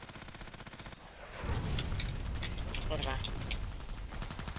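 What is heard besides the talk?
gunfire and cannon shots in video game Contract Wars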